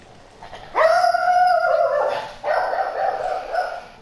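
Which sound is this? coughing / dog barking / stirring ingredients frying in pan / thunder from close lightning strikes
dog barking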